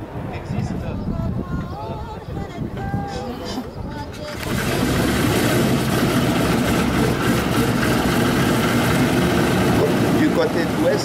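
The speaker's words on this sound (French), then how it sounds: "vous avez le moteur gauche du DC-3 qui se marche" The left engine of a Douglas DC-3 turns over at an air show, starting as a low rumble under an announcer's voice before swelling into a loud, steady engine roar.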